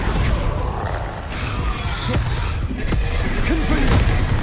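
Descendo spell impacts in Hogwarts Legacy combat land as several short, thudding slams and crashes, spaced irregularly through a busy, steady bed of game sound effects.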